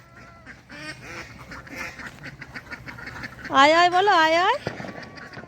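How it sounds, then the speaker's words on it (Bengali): Ducks give a loud, close burst of quacking after softer scattered calls, while people speak and call out to the birds. "তুমি কি হাঁসগুলোর সঙ্গে খেলবে?"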